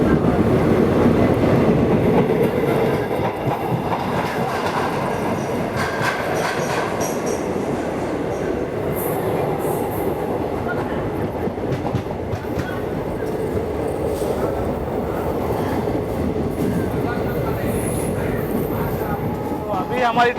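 A Vasco da Gama Tirupati Express rolls on rails while entering Madgaon Junction, with a steady continuous rumble and faint wheel clatter throughout, a voice speaking over it.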